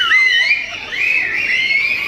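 An audience member at a training program whistles loudly, a sustained shrill whistle that dips briefly and then holds steady, heard alone without talk.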